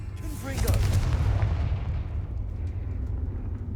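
A Confringo fire-blast spell bursts in a fantasy video game, a loud booming explosion that peaks early and then rumbles and decays over a few seconds.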